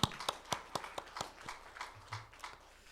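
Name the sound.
church congregation applauding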